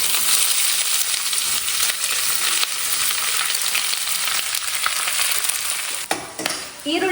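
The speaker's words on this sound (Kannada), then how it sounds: "ಎಣ್ಣೆ ಕಾದ್ಮೇಲೆ ಒಂದು ಎರಡು ಪೀಸ್ ಚಕ್ಕೆ ಒಂದು ಎಂಟು ಲವಂಗ ಒಂದು ನಾಲ್ಕು ಏಲಕ್ಕಿ ಹಾಕ್ತಾ ಇದ್ದೀನಿ" Whole spices (cinnamon, cloves, cardamom) and chopped onion fry in hot oil for a home dinner thali, a steady loud close sizzle with stirring scrapes throughout, briefly dipping near the end; no talking.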